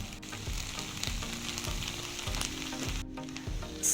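Noodles cooking in a covered pan, a steady close sizzle and frying crackle with soft rhythmic bumps roughly every half second, fairly quiet, no voices.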